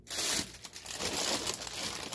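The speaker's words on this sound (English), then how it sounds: "sorry for the crinkling" Close, quiet crinkling of plastic or paper packaging, a continuous crackly rustle lasting a couple of seconds with no talk.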